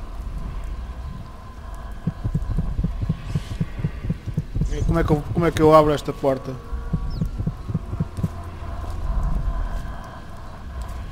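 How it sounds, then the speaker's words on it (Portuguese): A low, rhythmic heartbeat throbs in the stealth video game Dishonored, steady muffled thumps repeating under someone speaking, with a brief louder in-game sound in the middle. "Estou aqui a ouvir um tipo de um batimento cardíaco."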